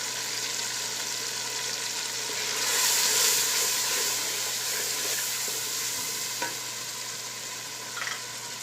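Spices and tomatoes frying in oil for potato pulao, a steady close sizzle with soft stirring scrapes that swells briefly, then continues evenly with a couple of light clinks.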